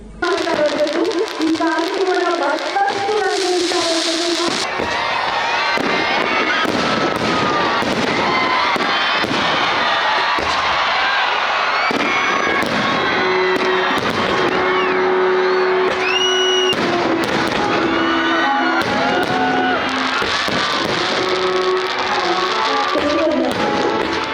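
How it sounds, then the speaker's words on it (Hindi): Fireworks from Asian Fireworks go off at the Bidar Utsav festival in Karnataka. The dense, continuous crackling and popping bursts have whistling rockets mixed in, under the cheering and chatter of a crowd. "बिदर के 5 चौराहों पर एशियन फायर वर्क्स की ओर से आतिशबाजी की गई"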